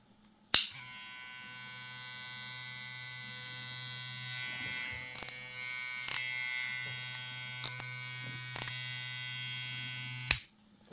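Saber 2 replica lightsaber humming steadily with a low, quiet drone for about ten seconds, punctuated by several sharp clicks and clashes near the start, middle and end.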